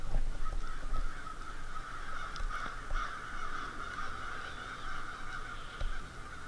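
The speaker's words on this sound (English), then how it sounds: "We've got a murder of crows out the window" A murder of crows roosting in trees outside a window caws steadily and overlapping throughout, heard from a distance as a continuous raucous chorus with no talking.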